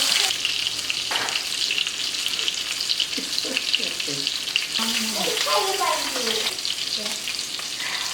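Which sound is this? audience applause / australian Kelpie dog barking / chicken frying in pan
chicken frying in pan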